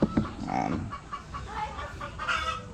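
Young chicks on a poultry farm give high, thin cheeps amid clucking fowl nearby, several short calls scattered through a brief stretch with slight background noise.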